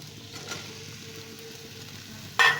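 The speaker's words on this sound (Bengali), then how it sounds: "ভেন্ডির সাথে এবার পোস্তগুলো ভালো করে মিশিয়ে একটু সাঁতলে নেব" Okra tossed with potato and poppy seed paste sautéing in a pan, giving a soft, steady sizzle and low frying hiss throughout, with a brief sharper scrape or clatter near the end.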